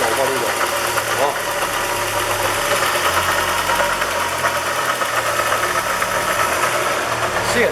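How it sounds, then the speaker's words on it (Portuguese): A car engine with a knocking fault runs close by, giving a loud, steady mechanical clatter and rumble for the whole stretch, with a voice speaking faintly over it at moments. "Será, pessoal, que esse barulho vem do motor mesmo?"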